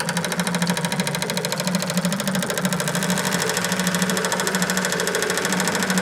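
A ProSpangle spangle transfer machine running a design, a fast steady mechanical chatter with a rapid repeating stitch-like rhythm, close and continuous with no breaks.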